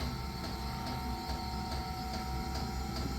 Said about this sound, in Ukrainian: помпа цикет, ну і турбінка працює, ну, шум такий трохи є, як від вентилятора